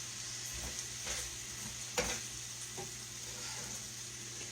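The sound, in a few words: stirring casserole mixture with seasoning in a dish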